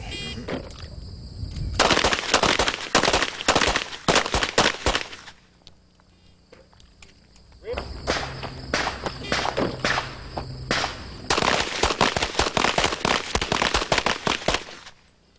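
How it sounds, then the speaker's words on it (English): Rapid bursts of sharp pistol shots ring out at a 1990 USPSA National Championships practical shooting stage. Two dense strings of fire are split by a short lull, with one more volley following, all loud and close. "I'm going to shoot like Jerry Barnhart knows how to shoot."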